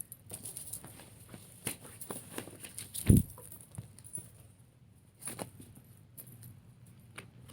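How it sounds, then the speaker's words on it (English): Tarot cards being shuffled by hand, giving soft irregular riffling pats and taps with one louder thump midway, close to the microphone with no talking. "While I'm shuffling"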